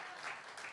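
Congregation clapping together during a Sunday worship service in a church, a short burst of steady broadband applause filling the room with no voices standing out.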